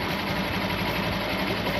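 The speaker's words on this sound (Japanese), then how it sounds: "あのエンジンちょっと変な音がするからあんまりおすすめはしません" A Honda CT125 Hunter Cub engine with an aftermarket air cleaner and replaced muffler idles close up with a steady, rattly chugging and a slightly irregular mechanical knock in its rhythm.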